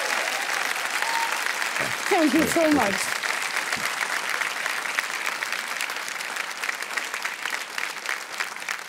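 Studio audience applauds on the set of the quiz show Kaun Banega Crorepati, a steady full crowd clapping throughout, swelling briefly near the start while someone speaks over it.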